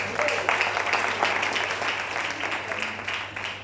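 A church congregation applauds during a service, with a dense, continuous clapping crowd that fades slightly toward the end.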